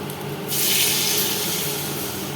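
Water used to rinse a mustard-and-poppy-seed paste container is poured into a pan of hilsa mustard curry, a sudden hissing splash that starts after a brief pause and fades while still running.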